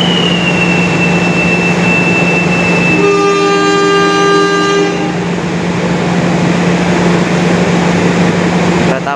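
Train horn on the KA Jayakarta sounds a sustained multi-tone blast of about two seconds at departure, over constant loud rail and station rumble with a steady hum.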